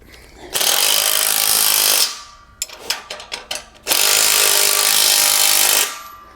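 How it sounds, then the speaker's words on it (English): Power tool driving three-quarter-inch bolts on a compact overland tent trailer, two long loud sustained bursts separated by a short stretch of clanking, ratcheting metal handling, close and with no talk. "Three-quarter-inch wrench and socket."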